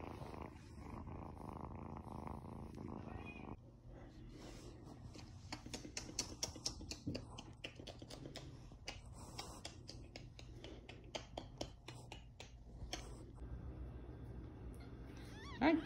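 A kitten purrs steadily and softly close by, a continuous rumbling hum, with a faint meow near the end.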